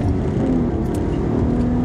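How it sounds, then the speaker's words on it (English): A 2012 Acura TL SH-AWD with a manual gearbox accelerates hard, its engine droning loud and steady from inside the cabin with a low rumbling hum throughout. "This car accelerates very quickly."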